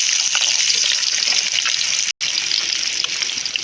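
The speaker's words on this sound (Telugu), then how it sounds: "ఆనియన్స్ వేసుకుందాం." Onions dropped into hot oil sizzle loudly and continuously, a dense steady crackle close by with one momentary break; no voices.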